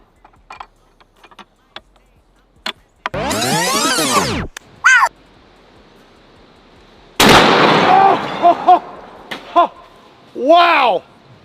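A JDJ rifle rated at 25,000 foot-pounds of muzzle energy fires at a row of five popper targets, producing two loud, booming blasts with long ringing tails, separated by quieter stretches with a few clicks and pops.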